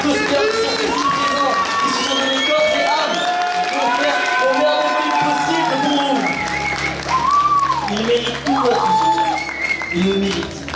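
An audience at a cosplay contest results event claps and cheers loudly and continuously, with shouts rising over the applause while a voice keeps talking through it.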